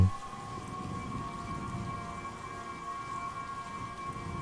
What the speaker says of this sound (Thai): บวกกับเสียงฝนที่กล่อมอยู่ภายนอก